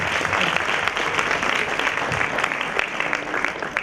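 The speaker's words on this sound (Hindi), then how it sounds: "जोरदार तालियां इसको" Audience applause at an induction programme, a dense crackle of many hands clapping at moderate loudness, steady for several seconds with a few sharper claps standing out.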